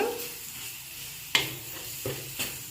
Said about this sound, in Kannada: ಕೊತ್ತಂಬರಿ ಸೊಪ್ಪು ಹಾಕಿಬಿಟ್ಟು 1-2 ನಿಮಿಷ ಕೈ ಆಡಿಸ್ಬೇಕು